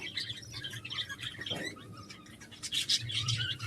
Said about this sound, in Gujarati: જોઈ શકો છો નાના નાના પોપટ મસ્ત